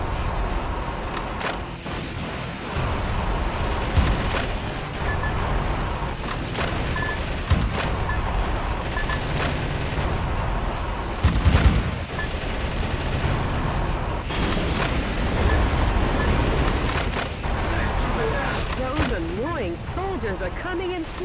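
Explosions and gunfire rumble continuously through a Metal Wolf Chaos XD battle, with dense blasts and bursts layered over game music, while a narrator's voice speaks over the action.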